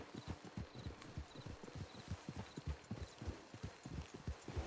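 Steady clip-clop of horse hooves walking at an even pace in the video game Red Dead Redemption Online, fairly close and clear, with a faint background ambience.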